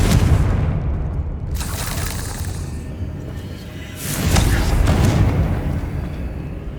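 A Confringo fire spell bursts in Hogwarts Legacy, two deep booming blasts with whooshing tails, one near the start and a second around four seconds in, loud over rumbling game ambience.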